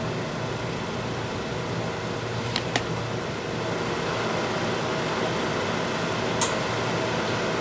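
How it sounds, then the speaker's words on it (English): A Horizon Technology sample extractor runs on a high-sediment water sample: a steady, even mechanical whir like a fan or pump, with a couple of faint clicks partway through and a brief tick later. "So I've started the extractor."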